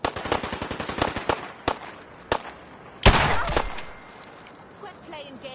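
Rapid bursts of automatic gunfire in the Fallout 4 video game, a quick string of close, sharp shots followed by a few separate single reports and one louder blast with a trailing crackle.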